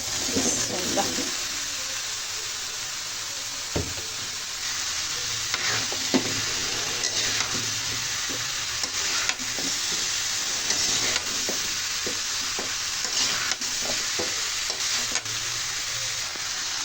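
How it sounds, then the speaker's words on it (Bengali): Pumpkin frying in a pan with salt and spices, with steady sizzling throughout and the scrape of a spoon stirring at intervals, close up and without talk. "এখন মিষ্টি কুমড়াটা দিয়ে দিব।"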